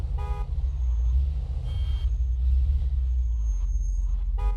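In the Mafia 2 video game, a bus and city traffic pass with a deep continuous engine rumble and short horn toots at the start and end, loud and close, with no talking.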